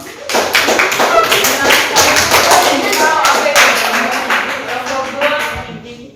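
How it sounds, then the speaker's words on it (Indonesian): A classroom of students claps their hands together in a loud, dense burst of sharp, close slaps that runs steadily for several seconds before tapering off. "Tepuk tangan dulu."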